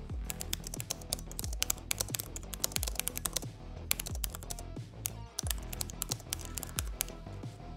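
Fast typing on the clicky mechanical-style keyboard of an XMG Neo 17 gaming laptop, a dense run of sharp close key clacks with occasional louder thocks from larger keys.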